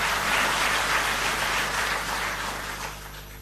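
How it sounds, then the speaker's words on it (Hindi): Applause from a gathered crowd honouring Delhi Jal Board officials and staff, a dense steady clapping that holds loud, then thins and fades slightly toward the end, with no talking over it. "तो एक बार जोरदार ताली हम दिल्ली जल बोर्ड के सभी अधिकारियों और सभी"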